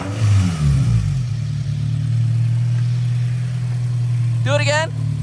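A Mitsubishi Evo engine idles with a steady low drone, rising briefly in a rev near the start, while an odd noise is traced toward the turbo area; a voice speaks briefly near the end.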